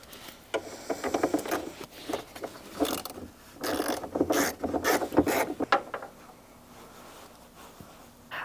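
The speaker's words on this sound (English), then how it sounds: "we're going to take a 10 mil and we are going to disconnect the battery" A 10 mm wrench loosening the battery terminal on a BMW G80/G82 in the trunk, a close series of ratcheting clicks and metallic rubbing in uneven bursts that fade into quiet near the end.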